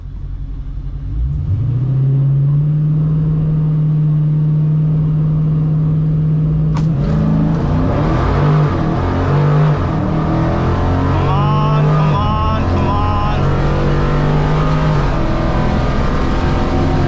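At a Holley MoParty drag racing event, Dodge Challenger drag cars in the 1320 Shootout class idle with a loud steady drone, then launch and accelerate hard, their roaring engines climbing through the gears and sweeping past close by.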